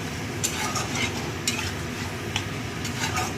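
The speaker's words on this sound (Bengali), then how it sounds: "চিংড়ি মাছটা দিয়ে একটু নাড়াচাড়া করবো যাতে মশলাটা মাছের মধ্যে ঢোকে" Shrimp being stirred through spice paste in a frying pan, a soft continuous sizzle with light scraping strokes and a few faint utensil clinks, steady and close.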